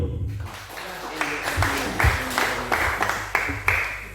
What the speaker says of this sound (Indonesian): Tepuk tangan buat Pak Ketua KONI.